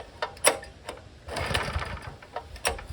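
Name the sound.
old small engine running, not at full throttle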